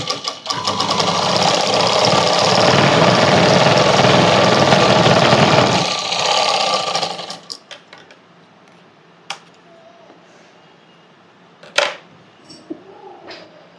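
A sewing machine stitches blouse lining in one steady, loud, close run of about seven seconds, followed by quiet fabric handling and a few faint clicks.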